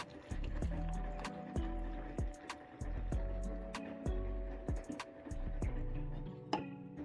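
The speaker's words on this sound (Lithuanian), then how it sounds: "Pilu kavą į puodelį." Coffee brewed in a pot being poured into a cup, a close, quiet stream of liquid with gurgling and bubbly pouring sounds broken by several sharp clinks of pot against cup.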